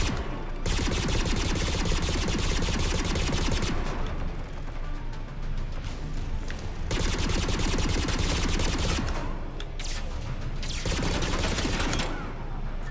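Heavy automatic gunfire from a Mass Effect 3 firefight roars in long, dense bursts with brief gaps, loud and close, mixed with crashing impacts and explosions.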